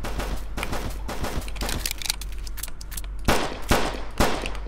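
Video game gunfire in Flashing Lights, a police and emergency services game, rapid bursts of sharp shots in clusters with a steady hum underneath, loud and close, no talk.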